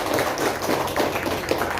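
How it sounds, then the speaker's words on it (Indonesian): Scattered, light clapping from a small classroom audience after a school group presentation, a brief patter of hands of moderate loudness. "tepuk tangan"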